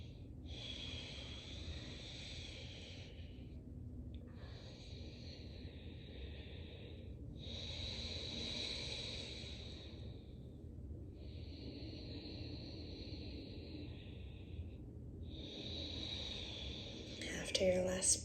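Deliberate, audible breaths taken in yoga child's pose: about four long, airy inhale-exhale cycles with short pauses between, close and soft, no talking.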